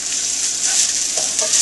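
Garlic and ginger frying in ghee for a vegetable korma give off a loud, bright, close sizzle, with a few soft stirring scrapes over the brief burst and no voices.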